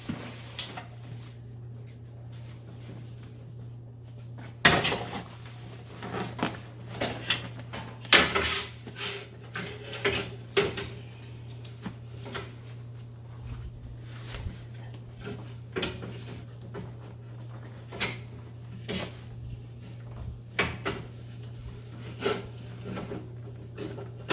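Clunks and knocks of a Trac Seats suspension seat being lowered back onto its original mounting holes on a Z920M mower base plate, a steady hum running underneath throughout.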